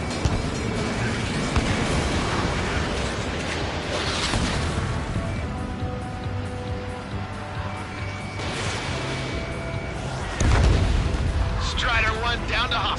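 Missile explosions and continuous combat noise in a flight combat video game, a dense, loud rumble with booms throughout and a heavier blast near the end, with radio-style voices over it.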